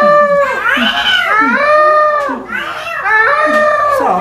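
A cat meows loudly and close, several drawn-out wailing meows in succession with a brief pause midway, bright and plaintive, alone without talk.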